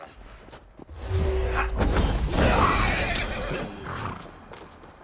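A horse neighs in Assassin's Creed Valhalla, a loud, close whinny rising over the middle of a busy game scene, with hoof clops, thuds and swooshes around it and a brief low voice near the start.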